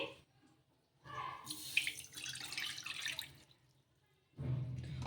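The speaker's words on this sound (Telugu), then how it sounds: "అదే కప్పుతో నీళ్ళు అయితే తీసుకోవాలి అండి ఒకటిన్నర కప్పుల నీళ్ళు అయితే తీసుకోవాలి" Water poured from a measuring cup falls in a splashing stream for a couple of seconds, then stops, with another short pour starting at the end.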